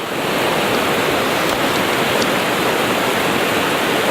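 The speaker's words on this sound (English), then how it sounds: "this is the Gray Wolf River, and so the Gray Wolf River is about to connect into the Dungeness River" Cold mountain river, the Gray Wolf River near its confluence with the Dungeness, rushing steadily with a loud, dense broadband roar that holds constant throughout, no voices.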